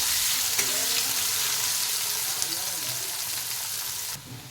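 Chopped onion, green chilli and bay leaves frying in hot oil with cumin seeds, a steady close sizzle throughout that drops away abruptly near the end, with faint voice-like tones underneath.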